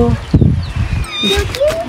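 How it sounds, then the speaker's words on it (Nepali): A person talks briefly, then a cat gives a short rising meow close by. "बिरालो हो"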